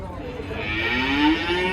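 At a cattle market, a cow gives a drawn-out moo that climbs in pitch and grows louder toward the close, set against a constant murmur of market noise.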